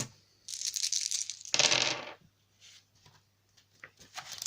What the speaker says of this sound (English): So we've got 6 dice, let's give them a roll.